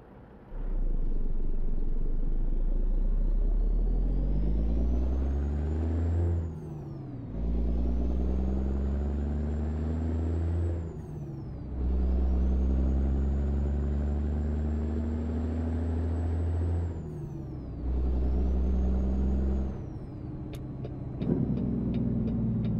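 A truck engine in the video game American Truck Simulator revs up and down in repeated long surges, with the deep, loud rumbling bark of a jake brake between gear shifts.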